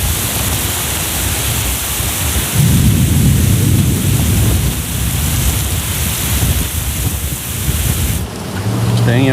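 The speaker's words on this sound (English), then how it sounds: "I think that's the worst storm I've ever been in" Heavy thunderstorm with a loud roar of rain pouring down, a deep thunder rumble swelling in partway through, and a shift in the noise near the end.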